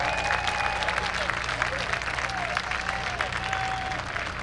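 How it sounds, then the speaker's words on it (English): Crowd applause at a high school baseball game between Pennsbury and Hopewell Valley, a steady, sustained clapping from the stands, with a few whistles and some voices mixed in. "Getting a nice round of applause in this class of 2023"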